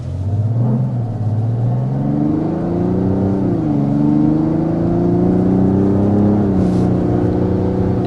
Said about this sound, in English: this is the inline 6-cylinder engine